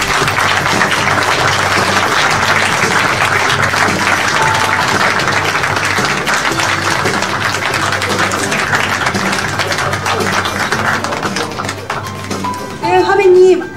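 Steady, dense applause from a book-concert audience greeting cartoonist Lee Hyun-se, loud and sustained throughout, with a burst of livelier sound near the end.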